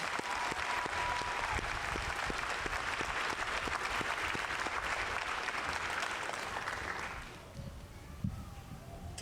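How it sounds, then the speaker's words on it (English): Sustained audience applause for an army band at a Fort Benning infantry graduation ceremony, a dense, steady wash of clapping from a large crowd that thins and softens near the end. "Let's give them a round of applause."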